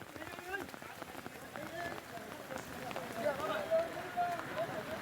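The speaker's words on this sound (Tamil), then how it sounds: "ஒரு பக்கம் மழை கொட்டி வருது" Heavy rain pours down steadily in Tiruvannamalai, a constant wash of hiss and patter that keeps going under a reporter's continuous talk.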